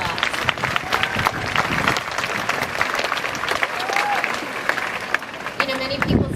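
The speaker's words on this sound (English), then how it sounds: "give yourselves a round of applause." Applause from a school audience at the Oak Valley promotion ceremony, a dense, steady wash of many hands clapping close up with some crowd noise, continuing without a break for about six seconds.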